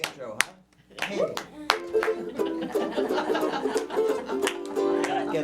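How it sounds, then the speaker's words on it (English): Scattered hand clapping from a small cabaret audience, a few sharp individual claps followed by denser clapping mixed with chatter and light laughter. "Gets all the applause right there."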